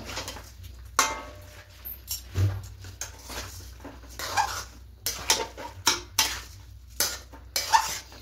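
A spoon scrapes and clinks against a pot while Gobindobhog rice is mixed in, giving irregular metallic knocks and scrapes up close, with a low sizzle between strokes and no talking.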